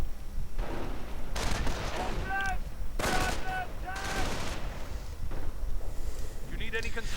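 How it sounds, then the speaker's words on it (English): Mines exploding and gunfire from a strategy war game, heard as bursts of crackling blasts and rattling shots in loud clusters, with a commentator talking over the action throughout. "Lots of mines going off there."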